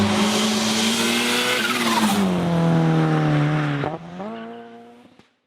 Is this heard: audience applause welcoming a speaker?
no